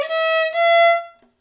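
Viola plays two slurred notes from the Song 110 exercise, a steady bowed tone that moves smoothly to a second pitch without a break, close and clear, then a short pause and a faint tap.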